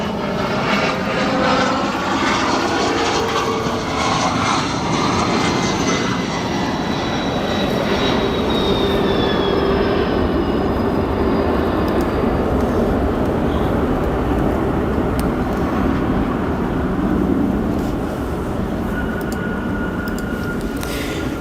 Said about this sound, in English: Next we have another CRJ 200 arrival